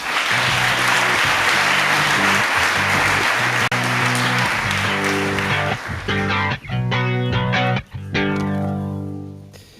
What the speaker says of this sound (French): nous accueillons sous vos applaudissements notre partenaire Jackie Lintigna, directeur général de KPMG.